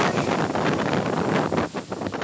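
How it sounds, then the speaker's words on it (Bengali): Gusty wind blows on the Satkhira coast during Cyclone Amphan, a loud, continuous roar buffeting the microphone and rising and falling in waves. "রাত থেকে থেমে থেমে দমকা হাওয়া ও বৃষ্টি হচ্ছে"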